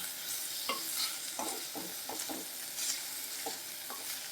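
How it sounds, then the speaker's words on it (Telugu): Ridge gourd peel frying in a pan, with a steady sizzle and scattered scraping stirs from a spoon, close and fairly quiet with no voices. "ఇలా లైట్గా కాస్త ఈ రా స్మెల్ పోయేంత వరకు ఫ్రై చేసుకోవాలి."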